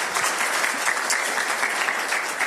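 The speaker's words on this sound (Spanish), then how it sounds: "Denle ese aplauso, denle ese aplauso." A church congregation claps in sustained, dense applause throughout, steady and fairly loud, with no voices rising above it.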